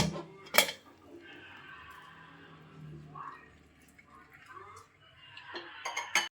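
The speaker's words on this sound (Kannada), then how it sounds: "ಈಗ ಕುಕ್ಕರ್ ಮುಚ್ಚಳ ತೆಕ್ಕೊಳ್ಳೋಣ." A pressure cooker lid comes off in a home kitchen with a sharp metallic clank at the start, followed by quieter scraping, rattling and dripping sounds, ending with another cluster of clinks.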